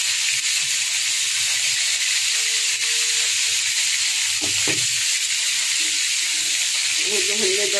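Yogurt added to chicken frying for chicken kababish, producing a loud, continuous sizzle with a brief burst of bubbling midway, close up, while a voice speaks faintly underneath.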